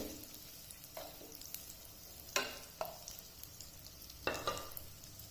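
Eggs fry quietly in a pan for an egg pepper roast, a faint sizzle broken by a few sharp taps and scrapes of a utensil against the pan, with no voices.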